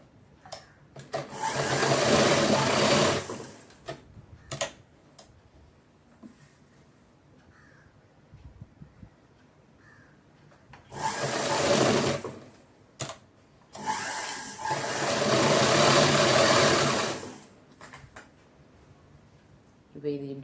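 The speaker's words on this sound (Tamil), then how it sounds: "இப்போ இங்கேருந்து ஸ்டிச் பண்ண போகிறேன்" A sewing machine stitches a fall onto a saree in three loud, steady bursts of motor whirring, separated by quiet pauses with faint handling clicks and brief talk.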